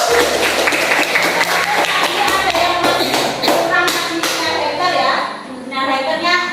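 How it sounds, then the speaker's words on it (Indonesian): A classroom of students claps together, loud and close, with a jumble of hand claps and taps mixed with children's voices and shuffling, fading slightly near the end. "tepuk tangan untuk kita semua"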